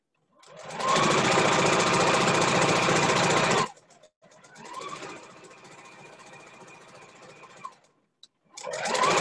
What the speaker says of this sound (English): Just pin it down and stitch it using that those markings as your guide to go ahead and sew onto your fabric.